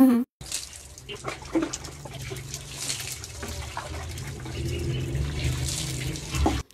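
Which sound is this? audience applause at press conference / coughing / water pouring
water pouring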